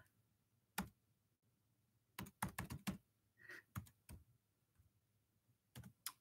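An Instagram handle being typed on a computer keyboard: clusters of quick, close key clicks in irregular bursts separated by short pauses, fairly quiet with no talking.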